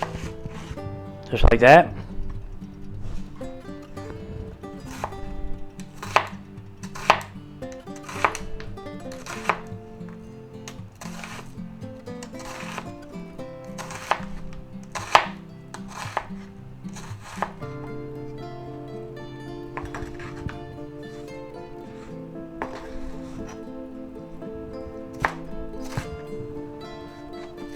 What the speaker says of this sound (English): Now we're going to take our onion and we're going to cut that right in half.